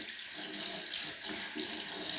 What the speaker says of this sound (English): You can also squeeze on the filter itself to kind of make sure the debris is being washed out.